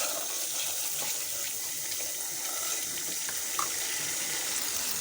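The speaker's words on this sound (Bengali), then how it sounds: "মশলা কষানোর জন্য দিয়ে দিচ্ছি পানি।" Water is poured into a pan of spices being fried for a pickled-style beef curry, giving a continuous bright hiss and splash that holds at an even level for a few seconds, with nobody speaking.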